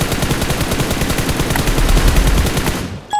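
Sustained automatic gunfire rattles in PUBG Mobile, a fast, loud, evenly spaced stream of shots close by that stops abruptly near the end, with no talk over it.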